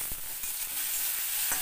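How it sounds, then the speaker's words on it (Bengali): Small cut potato pieces with chopped onion frying in a pan over medium gas flame, a steady close hiss and sizzle with a few soft stirring knocks. "আলুটা আমার হালকা ভাজা হয়েছে"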